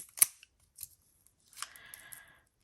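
Washi tape packaging is opened up close: a sharp snip and a couple of faint clicks, then a brief crinkling rustle of plastic, all quiet and near.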